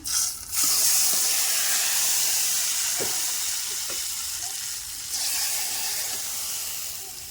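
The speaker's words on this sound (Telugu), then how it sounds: "పప్పు తాలింపు వేస్తున్నా" Tempering sizzles for a mango dal: a loud, close frying hiss that stays steady for the whole stretch, with a couple of faint knocks and a brief dip in the middle.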